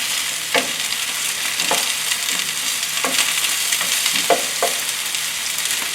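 Rice frying in a pan while it is broken apart gives a steady, close, bright sizzle, punctuated every second or so by sharp scraping and tapping strokes from the utensil.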